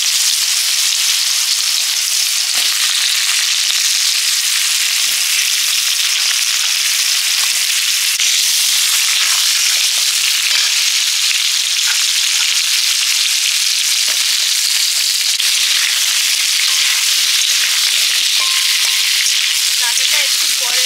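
Vegetables for shukto fry in a pan with a loud, dense, unbroken sizzle and hiss lasting the whole stretch, marked by occasional small crackles and clicks, close up and without talk.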